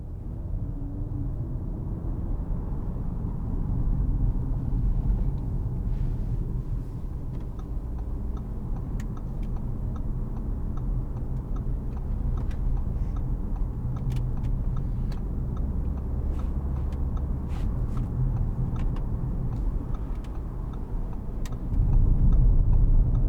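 Audi RS3 2017 2.5 TFSI Sportback engine heard from inside while driving, a steady deep bass-heavy drone that swells near the end, with faint ticking clicks above it and no talk.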